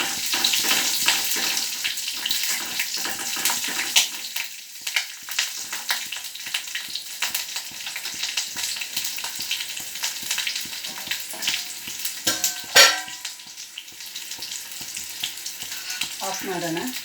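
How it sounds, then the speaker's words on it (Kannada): Curry leaves and green chilli frying in hot oil after mustard seeds, a loud continuous sizzle and crackle close by with occasional stirring, no talk. "ಕರಿಬೇವಿನ ಸೊಪ್ಪು ಹಾಕ್ತಾ ಇದ್ದೀನಿ. Green chilli,"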